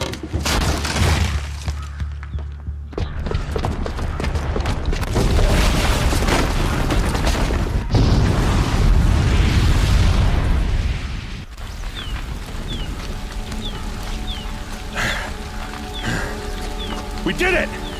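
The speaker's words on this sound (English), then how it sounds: "the booby trap on the bomb downstairs is gonna get set off" A booby-trapped bomb explodes in Horizon Zero Dawn on PS4, a loud rumbling blast with shattering and crumbling debris that carries on for several seconds before fading into game ambience and chirps, with voices speaking over parts of it.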